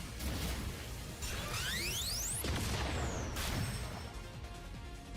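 A Supreme Cannon special attack in a video game: a steady run of loud crashing, whooshing, rising sweeps and sharp impacts that fills the whole clip with no pause.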